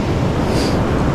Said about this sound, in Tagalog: Lalong lumaki ang alon.